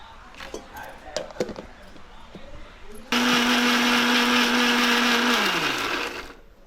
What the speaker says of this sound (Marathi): मिक्सरात लावून घेतो